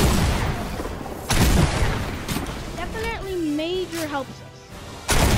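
Double-barrel shotgun blasts in Fortnite during a Predator boss fight, two loud close booms separating spans of game effects and someone talking.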